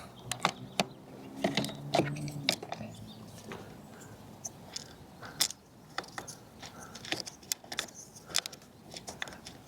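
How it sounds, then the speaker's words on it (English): Screws with thread-locker, set in a roof rack on a Subaru, are tightened by hand with a screwdriver, giving soft ratcheting clicks and small metallic rattles at close range, irregular and fairly quiet. "I think the screws have some Loctite on them, so it starts to become a little resistant."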